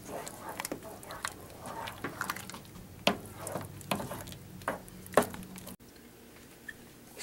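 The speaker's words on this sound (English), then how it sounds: "You're going to mix that in, and you're gonna let your gumbo set on the lowest heat setting" A spoon stirs filé powder into chicken and sausage gumbo, giving repeated soft scraping and squishing strokes over a steady low simmer that continue for several seconds before stopping abruptly.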